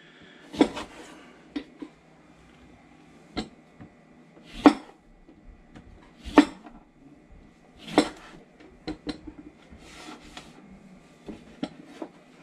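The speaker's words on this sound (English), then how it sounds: "chop up a lemon" A knife chops a lemon on a kitchen board, a series of sharp, fairly close taps in an irregular rhythm with brief pauses between cuts.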